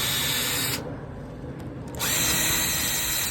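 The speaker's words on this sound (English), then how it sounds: "Go ahead and drill halfway through the door." A power drill whines at high speed as it bores partway through an aluminum storm door, loud and close, easing off for about a second before spinning back up to full speed.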